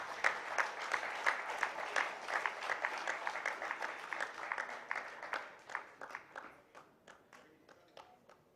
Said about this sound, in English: Please put your hands together as I invite on stage amidst your applause, Dr. Michael Coleman, President IPA.